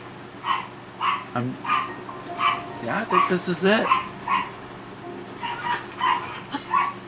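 Dogs bark repeatedly in short, evenly spaced bursts through the whole stretch, moderately loud, while someone talks over them; a denser tumble of sound rises in the middle.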